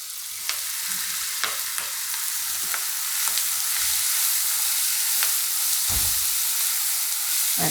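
Chilli pieces and garlic fry in a pan for Rajasthani mirchi kuta, a steady bright sizzle broken by several sharp stirring clicks and one low thump near the end, close and continuous with no talk.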